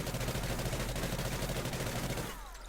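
Dense, continuous gunfire from Call of Duty: Ghosts, rapid automatic bursts overlapping loudly for most of the stretch before tapering off near the end, with no talk over it.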